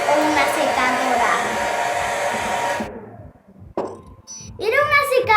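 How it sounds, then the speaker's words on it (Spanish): A household hair dryer runs loud and steady as a broad whoosh for about three seconds, then cuts off; a voice follows after a short pause. "¡Era una secadora!"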